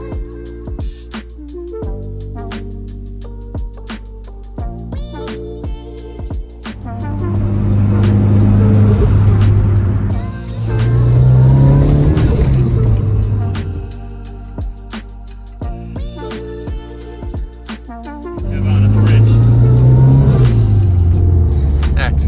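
Nissan Skyline or Silvia drift car at a raceway, its engine revving hard in repeated surging bursts with rising and falling pitch, loud and close, with quieter idle stretches between pulls and people talking.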